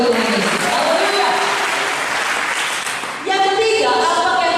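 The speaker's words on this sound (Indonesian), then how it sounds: "Berikan tepuk tangan bagi Tuhan Yesus." A congregation at a church service applauds loudly and continuously. Near the end, a sustained tonal sound, likely music or voices, rises over the clapping.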